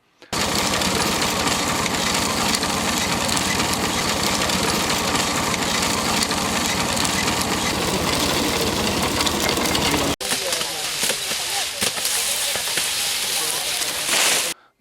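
A diesel Peter engine drives a sugarcane crusher for jaggery making in rural Punjab, a loud steady rapid chugging that runs unbroken for about ten seconds, then drops to a lighter, uneven mechanical clatter.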